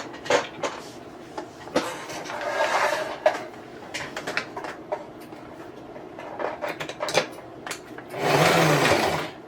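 A sewing machine runs in short and longer bursts, stitching fabric Christmas ornaments, whirring close by with brief pauses between stitches and a louder sustained run at the end.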